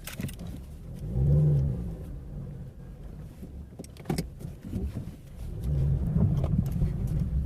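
A car accelerates down the road, its engine rising in two surges around a quieter stretch with some clunks and road noise, heard from inside the vehicle.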